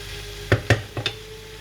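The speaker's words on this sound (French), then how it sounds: "Je mélange bien, je laisse bien cuire." A few quick, close scraping strokes of a spoon stir food cooking in a pan, three or four distinct clacks over a low sizzle.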